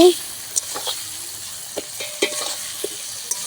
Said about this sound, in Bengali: এবার আলু সহ আমি এখন এটাকে ফ্রাই করব